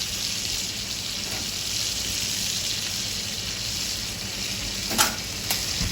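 A ribeye steak sizzles and crackles steadily in a hot pan after being turned over, a dense continuous frying hiss with a couple of sharper pops near the end and no talking.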